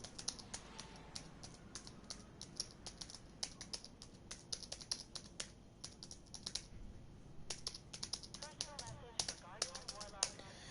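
Rapid, irregular clicking of keys on a computer keyboard, close and fairly quiet, with typing bursts and short pauses throughout and a voice faintly underneath.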